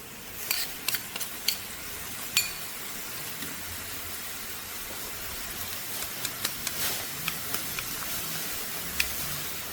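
Green curry paste frying in coconut cream in a pan, a steady soft sizzle and hiss with scattered sharp pops and occasional stirring scrapes, close by and without talk.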